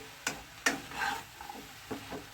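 Bottle gourd and fish head being stirred in a pan: a few soft scrapes and taps of a spoon against the pan over a faint low sizzle, quiet and close, with no talking.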